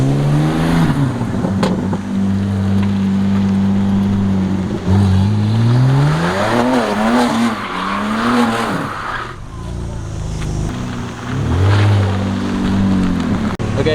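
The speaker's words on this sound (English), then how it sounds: "Start the engine." A rebuilt BMW E30 M3 (G80) engine revs hard and loud, its pitch climbing and dropping repeatedly, with brief squeals and faint voices now and then.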